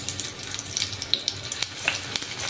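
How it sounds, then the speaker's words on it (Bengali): Eggplant pieces frying in hot refined oil for begun bhaja, a soft crackling sizzle with scattered sharp pops throughout, faint and steady, no talk. "তেলটা ভালোভাবে গরম হওয়ার পর আমি বেগুনগুলোকে 2 মিনিট ফ্রাই করে নেব।"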